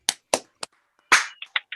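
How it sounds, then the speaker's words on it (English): A few scattered claps from a small online class, sharp isolated slaps in an irregular sparse rhythm, close and dry with silence between them. "give a round of applause real quick, class"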